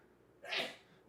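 A single sharp sneeze, close and fairly soft, rising out of quiet room noise and fading quickly.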